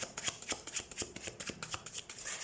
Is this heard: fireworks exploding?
no